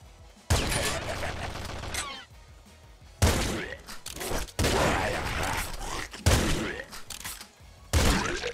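Shotgun blasts in the roguelike video game Nuclear Throne, loud, dense bursts of rapid fire in several long clusters separated by brief quiet gaps.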